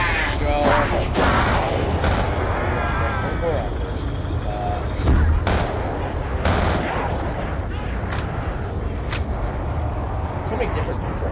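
A 3-round burst weapon fires in Black Ops 2 Zombies on the Nuketown map, with sharp repeated shot bursts and other game noise under almost constant talking.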